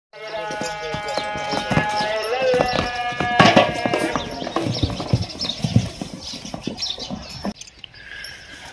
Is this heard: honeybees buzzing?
no